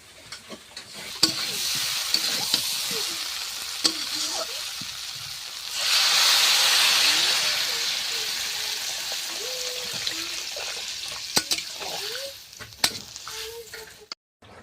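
Green jackfruit curry with prawns cooking in a pan, a continuous sizzle and bubble with stirring scrapes, swelling briefly into a louder hiss midway. No one speaks.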